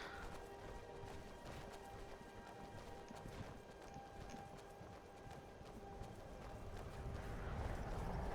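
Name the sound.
horse Shadowmere's hooves clip-clopping in video game Skyrim VR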